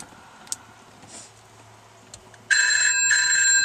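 A mobile phone rings inside a moving car, a bright, loud, steady electronic ringtone bursting in after a few seconds of quiet cabin hum and faint ticks.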